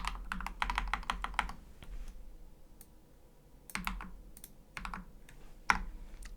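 Rapid bursts of clicky, clacky mechanical keyboard typing, close and crisp, with quick clustered keystrokes, a pause, then scattered individual clicks.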